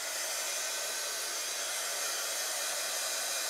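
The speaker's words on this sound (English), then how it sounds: "You can tell me if the dryer is really annoying." A hair dryer blows over freshly applied paint, a steady, even rush of airy noise that holds without a break, with no voices.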